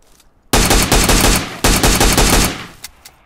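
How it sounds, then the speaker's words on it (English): Two shotguns firing together in PUBG Mobile, a loud, rapid string of heavy blasts in two bursts separated by a brief pause, with a few scattered shots trailing off at the end. "Now let's do what two shotgun blasts can do."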